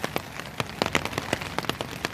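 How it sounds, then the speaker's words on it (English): Steady rain falling in New York City, with close, distinct drops tapping irregularly on a surface such as an umbrella over a soft background patter. "enjoying this lovely rain here in New York City"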